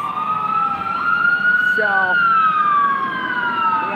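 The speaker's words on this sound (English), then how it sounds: "Oh, fire trucks." Fire truck sirens wail on a Vancouver Downtown Eastside street near a tent encampment, loud rising and falling tones sweeping past with traffic rumble beneath, while someone speaks over them.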